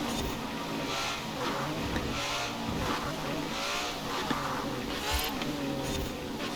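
A Ferrari races in Forza Horizon 4, its engine revving and surging through repeated upshifts at moderate level, with brief rises and drops in pitch and no voices over it.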